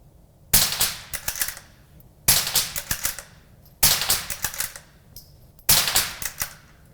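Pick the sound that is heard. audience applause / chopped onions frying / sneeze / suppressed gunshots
suppressed gunshots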